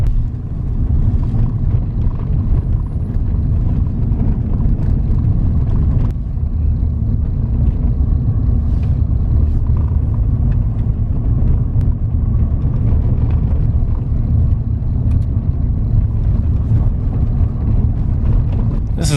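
Car driving through military training land at Fort Carson, heard from inside as a loud, steady low rumble of engine and road noise with some wind buffeting, continuous throughout and without speech.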